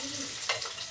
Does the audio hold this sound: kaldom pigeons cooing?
no